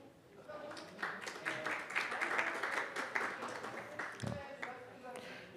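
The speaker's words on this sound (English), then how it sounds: "please welcome Gajendra with applause" A conference audience claps to welcome a speaker, a faint, scattered round of applause heard at a distance, mixed with voices near the end.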